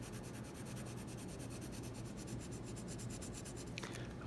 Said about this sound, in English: using the side of the pencil.